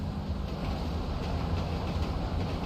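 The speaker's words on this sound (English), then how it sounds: "Hello, train." In the GTA V game, a train rolls past in Blaine County with a steady rumble and faint rhythmic clatter, close and continuous.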